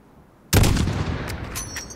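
Loud gunfire from Call of Duty: Modern Warfare (2019) bursts out suddenly after near silence, a heavy blast followed by a rumbling tail and a few sharper cracks.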